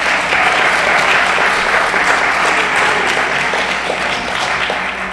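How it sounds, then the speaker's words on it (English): Sustained applause from an audience at a climate action forum, dense and loud clapping that holds steady for several seconds with no talking. "I need you to applaud for yourselves."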